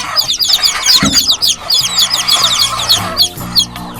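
Hens cluck close by amid a busy chorus of high, rapid peeping from newly hatched chicks that carries on without pause.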